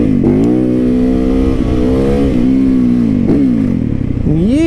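A motorcycle engine revs hard while the rider pulls wheelies, a loud, close, continuous drone whose pitch swells and dips as the throttle is worked, climbing sharply at the end.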